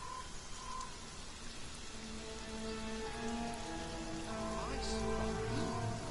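Rain patters steadily in Divinity: Original Sin, an even, continuous hiss that swells slightly partway through. Soft sustained musical tones sit beneath it, and no one speaks.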